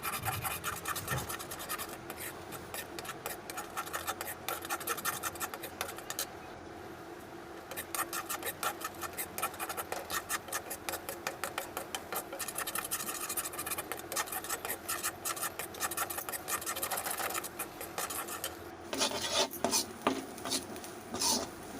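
Noodles are stirred and tossed in a frying pan, a steady scraping and rasping of a utensil against the metal that repeats in quick strokes, close and alone, with a brief clatter near the end.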